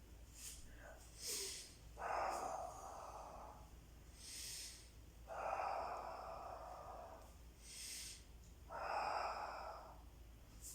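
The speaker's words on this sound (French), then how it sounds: "J'inspire, j'expire, je redescends." Deep, airy breaths drawn in and pushed out during a Pilates session, several slow inhale-exhale cycles in a steady rhythm, close and fairly loud with short pauses between.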